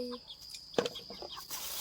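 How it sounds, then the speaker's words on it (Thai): A chicken clucks a few short times nearby, soft and brief, over quiet background. "น้องไก่"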